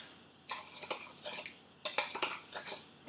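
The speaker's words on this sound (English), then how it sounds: "throw a few teaspoons of this raw sugar in there. And I'm just going to mix it up" A spoon works raw sugar into a homemade bath scrub with lemon zest and rosemary. It makes close, gritty scraping strokes in two bursts separated by a short pause, with no talking.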